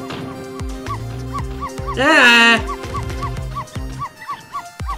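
A dog in the video game Ghost Trick Phantom Detective barks and yips over a looping game music track, with a rising whimper-like cry in the middle and a brief spoken word.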